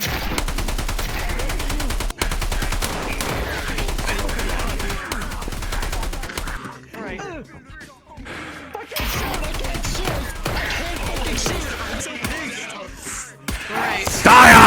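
Rapid gunfire in roleplay video game combat, long stretches of fast automatic bursts with sharp repeated cracks, broken by a short lull with voices shouting, then the firing resumes loud and close.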